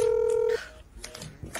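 A telephone being dialed in a text-to-speech slime storytime, one long steady keypad tone followed by soft, faint clicks and noises.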